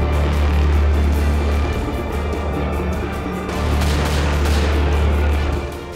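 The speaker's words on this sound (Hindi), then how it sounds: "रूसी सैनिकों ने लुहांस के सेवरोडोनेक शहर पर बारूद बरसा दिया है" Russian gunfire and shelling hit Severodonetsk, Ukraine, heard as a loud, continuous rumbling roar of heavy fire with a deep low boom running through the whole stretch, dipping briefly in the middle before swelling again.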